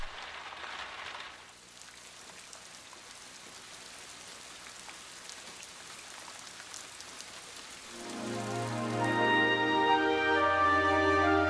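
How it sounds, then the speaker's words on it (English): Steady rain patters on a window for several seconds, a continuous soft hiss with small drops, before a louder, warmer sound with a low hum and tonal notes takes over near the end. "raindrops on the window when I'm tucked up warm in bed."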